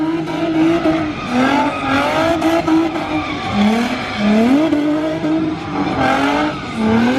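A Nissan 350Z engine drones and revs while drifting, tires squealing in long wavering screeches, loud and close, with no voices.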